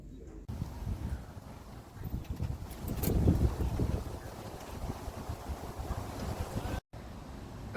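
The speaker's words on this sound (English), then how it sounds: "It is really windy, so you might not be able to hear me without the volume turned up" Strong gusty wind buffets the microphone outdoors, a dense continuous roar with a louder surge in the middle and a brief dropout near the end.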